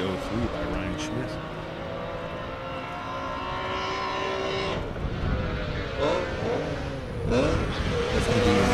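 Subaru WRX STI Street Class race car lapping Circuit of the Americas, its engine droning steadily and loudly throughout, rising near the end, with a commentator talking over it.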